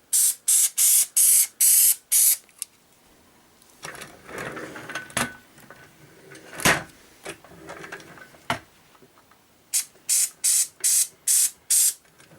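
XCP lubricant spray is squirted onto a piston shaft in sharp, loud hissing bursts, a rapid cluster of short sprays, then quieter handling noises, then another rhythmic run of about six spurts.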